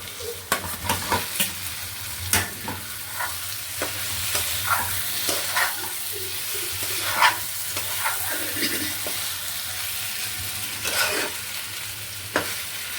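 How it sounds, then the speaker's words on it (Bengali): Ground spices stirred and frying in oil in a pan for a Bengali duck egg curry, a steady sizzle with repeated scraping strokes of the spoon close by, no voices. "সব মশলাগুলো দিয়ে নেড়েচেড়ে একটু অপেক্ষা করব, যাতে মশলা থেকে তেলটা ছেড়ে আসে"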